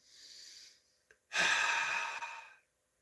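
A single long, breathy exhale of yogic ocean breath, with a soft hissing, oceanic quality, follows a lighter inhale, close and alone.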